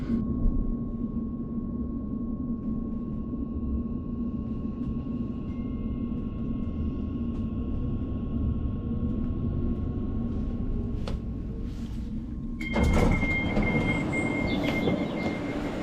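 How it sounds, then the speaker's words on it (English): A four-carriage passenger train rumbles steadily nearby with a faint high squeal of wheels, then a louder burst of rolling noise as it pulls into the station. "And that's my train now arriving."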